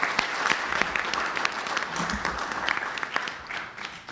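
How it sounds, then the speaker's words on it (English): Audience at an evening school board business meeting claps for a list of honored people, a moderate scattered round of applause with sharp individual claps standing out, fading slightly toward the end. "let's give a round of applause to all of these people"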